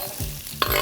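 Cut pieces of paprika stir-fried for a beef and two-colour paprika dish, a short burst of sizzling in a frying pan with a brief scraping clatter.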